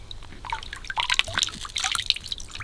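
Water drips and trickles near the shore of a lake as someone cups it to wash their face, with a quick run of close, splashy droplets and no talking.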